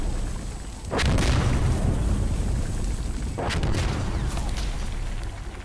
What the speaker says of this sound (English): The security artillery doesn't fire as many shells as the mortar